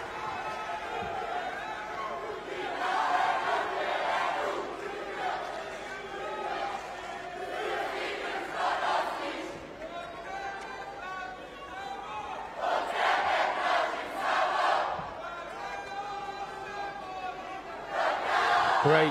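Spectators at a karate European Championship final cheer and shout in rolling waves of crowd noise, swelling and fading, with a commentator speaking over the arena din.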